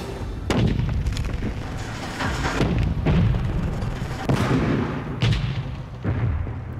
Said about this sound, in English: Nine sticks of explosives are about to go off.